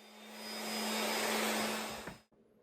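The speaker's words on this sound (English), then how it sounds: "cleaning up the edges of the guitar with an orbital sander" Orbital sander smoothing the edges of a wooden guitar body, a steady loud whirring drone with a high whine that runs alone for about two seconds, then cuts off abruptly.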